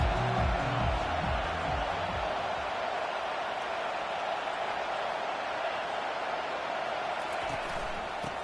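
A noisy stadium crowd at a football video game, a steady, dense roar that fills the whole stretch, with a commentator talking briefly over it at the start.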